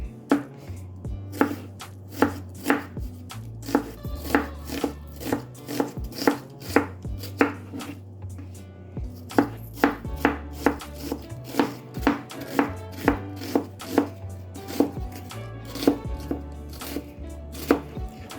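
A knife chops onion into a julienne cut on a board, with rapid, sharp, evenly spaced taps in bursts and brief pauses, close and clear, no talking.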